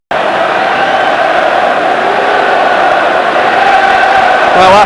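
A large football crowd at a Celtic home match roars after a goal, a dense, sustained wall of cheering and chanting that swells slightly toward the end.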